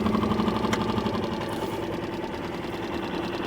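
A small boat outboard engine runs in gear on a lake, producing a steady, close, even whirring drone with no talk.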